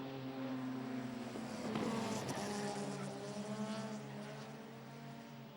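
Modified production cars race around Kingaroy Speedway in Queensland, a loud sustained engine roar with layered harmonic drones that swells as the pack passes close around the midpoint, then settles back to steady racing noise.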